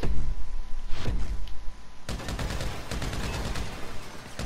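Gunfire at a shooting range in GTA 5 Online: a few separate shots at first, then a fast, dense volley of rapid rounds, loud and close.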